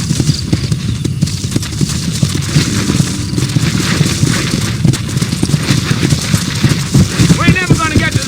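Horse hooves clip-clop in a steady rapid rhythm while riding in Red Dead Redemption, loud and close, with a voice talking over it.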